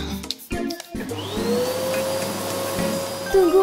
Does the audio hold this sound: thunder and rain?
no